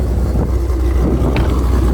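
A Shelby GT500 with a Corsa exhaust gives a short burst of deep, steady low-pitched engine rumble, close and fairly loud, with no voices.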